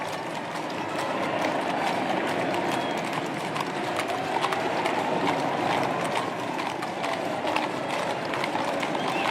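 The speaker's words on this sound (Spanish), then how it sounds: "podemos observar el acompañamiento del Regimiento de Granaderos a Caballo General José de San Martín, quienes escoltan como guardia de honor al señor Presidente de la Nación." Hooves of the Granaderos a Caballo mounted grenadier regiment escorting the Argentine President at the 2026 opening of Congress, a steady dense clatter of many horses heard continuously with crowd and street ambience.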